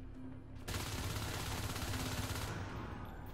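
Video game gunfire in a competitive match, a sustained burst of rapid automatic shots starting abruptly and running about two seconds before cutting off.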